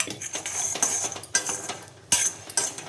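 A spoon stirring dosa batter for sprouted green gram pesarattu clinks and scrapes against a metal vessel in several close, loud bursts with short pauses between them.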